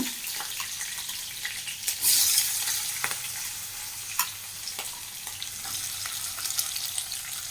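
Onions fry in a pan alongside urad dal and chillies, a steady hissing sizzle broken by occasional clinks and stirring scrapes, with a louder burst of spitting early on and no voices.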